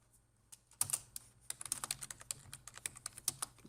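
Keys clatter on a computer keyboard in quick, irregular bursts of close, crisp taps, starting sparse and then running into a steady flurry of typing, with no voice over them.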